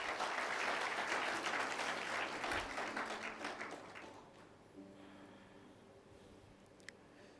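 A church congregation applauds during an Indonesian sermon, full loud clapping that thins out and fades after about four seconds into quieter room sound with a few scattered claps.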